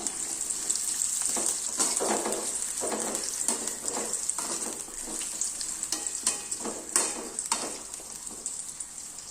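Pieces of raw green mango sizzle and bubble in hot oil, a continuous bright frying hiss with irregular pops and stirring scrapes, close and steady with no talking.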